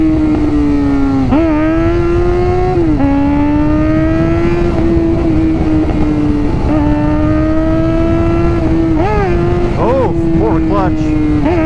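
Suzuki GSX-R 600 sport motorcycle ridden through twisty roads, its engine note rising and falling steadily through the whole stretch, loud and close with a few quick revs and shifts.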